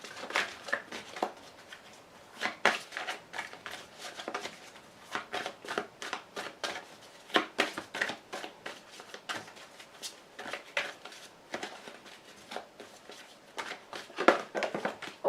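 Tarot cards shuffled and drawn during a card reading: continuous, close rustling and riffling with quick snaps and slides, uneven in rhythm, lasting about fifteen seconds with no talking.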